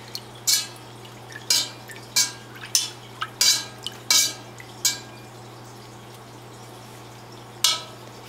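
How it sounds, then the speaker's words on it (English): Yarn stirred in a pot of blue dye, with a series of sharp clinks and scrapes against the pot arriving in irregular bursts over a steady low hum, fairly close and alone without talk. "I'm going to go ahead and stir that."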